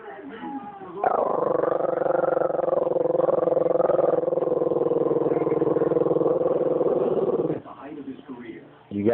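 A dog growls in a fight over food, a loud, steady, rumbling snarl that runs unbroken for about six seconds before it cuts off, with quieter household noise on either side.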